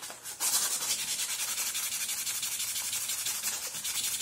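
Steel wool rubs briskly over the metal blade of a pair of pruning shears, a steady, close scratchy scrubbing with a quick repeating back-and-forth rhythm that runs throughout without any talk.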